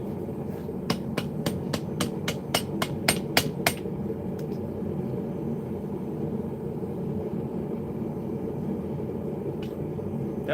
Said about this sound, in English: Forging a blacksmithing knife is a unique experience.